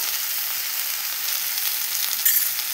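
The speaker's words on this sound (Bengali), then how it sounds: "কুমড়ো আর আলুটাকে ভালো করে নাড়াচাড়া করে ভেজে নিয়েছি।" Pumpkin and potato frying in a pan with salt and turmeric, giving a steady, close sizzling hiss throughout with a brief stirring scrape near the end, no voices.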